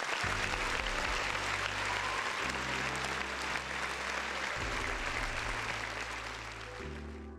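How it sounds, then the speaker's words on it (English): An audience breaks into applause, a dense, steady wash of clapping that stays loud throughout and fades slightly at the end, with a low hum underneath. "another round of applause for my boy Link."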